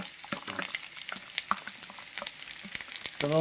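Finely chopped garlic fries in oil in a pan as tempering for dal, giving a continuous crackling sizzle with scattered pops and a brief scrape of stirring at the end.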